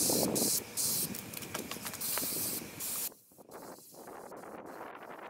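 Spray paint hisses onto trailer wheel rims in a shop during a second coat, with several loud bursts of spraying separated by brief pauses, then softer intermittent spurts and faint clicks of the can nozzle, close and alone.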